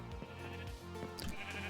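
Minecraft sheep on a farm bleating several times in close succession, fairly loud against a steady game background.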